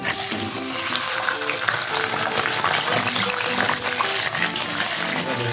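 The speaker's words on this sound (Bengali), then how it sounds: "এই তেলের মধ্যে আমি মাছের মাথাটা ভেজে নেব" A fish head fries in hot oil with a continuous bubbling, crackling sizzle, fairly loud and close, with small pops scattered through it and no voices.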